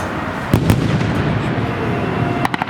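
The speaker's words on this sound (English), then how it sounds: "Fireworks are gonna go off." Fireworks burst at night over a theme park's Fantasyland area, a few sharp distant pops with crackling tails, then a quick cluster of bangs near the end, with crowd murmur underneath.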